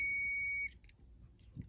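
A multimeter's continuity tester beeps while probing a car's manual window switch, a single steady electronic tone held for over half a second and then cut off, followed by faint handling clicks.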